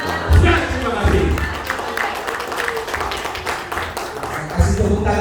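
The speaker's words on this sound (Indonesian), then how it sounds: "Kasih tepuk tangan sekali lagi untuk Bapak Ibu buat program training Kurniawan." Audience applause at a health seminar in Malang, a broad wash of clapping from a seated crowd that swells and fades over several seconds, with low thumps and a voice faintly mixed in.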